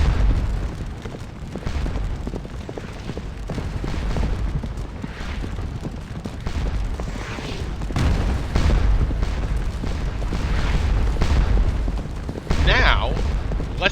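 Artillery cannons of a gun battery in the Napoleonic battle game Scourge of War: Waterloo boom repeatedly at irregular intervals amid a rumbling battlefield din, with someone narrating over the firing.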